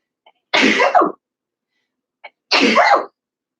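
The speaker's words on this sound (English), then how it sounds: "I'm going to sneeze" Two loud, close sneezes about two seconds apart, each preceded by a short intake of breath, with silence around them.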